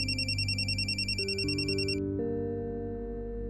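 A mobile phone plays a melodic electronic ringtone in a Marathi TV serial scene. A bright repeating chime pattern is followed by steady sustained tones for several seconds, loud and close, and no one speaks.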